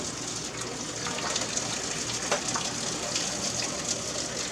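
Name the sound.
draining pasta water in sink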